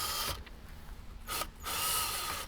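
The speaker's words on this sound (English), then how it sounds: "with your screwdriver, you're going to remove the screw that's holding in the window panel, as well as 2 screws in the bottom of the screen bezel" A hand screwdriver turns out the screws holding a window panel and screen bezel in a 2018–2023 Jeep Wrangler JL, producing faint close clicking and scraping mechanical sounds in short bursts with a quiet background.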